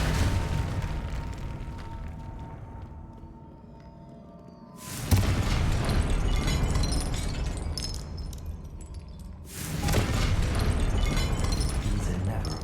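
Confringo blasting spell in Hogwarts Legacy, a video game, going off as two loud, sudden broadband explosive bursts, the first about five seconds in and the second near ten seconds, each with a sustained rumbling tail over quieter game ambience.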